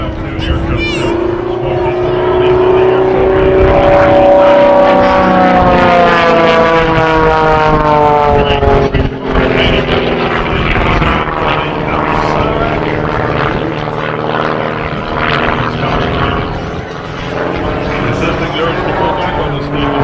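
A propeller airplane performs at the Leesburg Airshow 2017, its loud, steady engine drone shifting in pitch as it passes and circles back, with an announcer talking over it.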